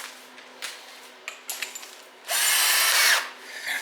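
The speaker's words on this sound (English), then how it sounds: "then I put the tap drill in and drill through, and it's mild steel" A power drill whirs in a few short bursts, then runs steadily for about a second as a tap drill bites through a mild steel exhaust manifold before spinning down.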